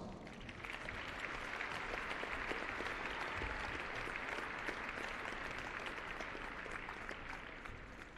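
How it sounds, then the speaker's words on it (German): Large indoor audience at a Zurich show jumping event applauding steadily, a dense wash of many hands clapping that holds at an even level for the whole stretch and eases slightly at the end. "Wir danken mit einem großen Applaus."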